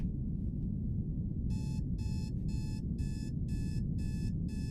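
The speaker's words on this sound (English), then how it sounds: "Oh, this alarm clock sound." Alarm clock ringing in the video game CHIRK: after a quiet second of low rumble, a steady run of rapid, evenly spaced electronic beeps sounds out clearly.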